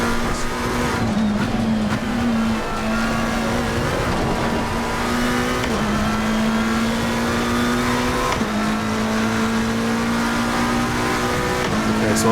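McLaren 720S GT3 Evo race car in Assetto Corsa Competizione, engine holding a steady loud drone with occasional gear shifts and rises in pitch, continuous and close, no talking.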